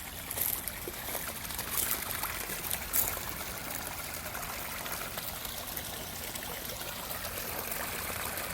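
Water drains steadily down through decorative stone from a one-horsepower sump pump outlet, a continuous rushing trickle that holds at an even level throughout, with no speech.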